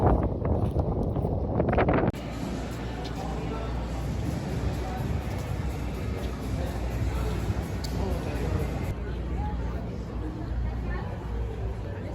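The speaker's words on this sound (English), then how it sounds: "It's the wind." Wind blows outdoors, buffeting the microphone as a steady, loud rumbling roar that drops slightly in strength partway through.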